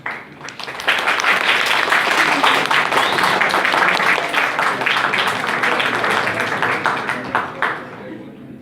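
Sustained applause from a class in a university lecture hall during an immunology lecture, loud and steady for most of the stretch, fading slightly near the end.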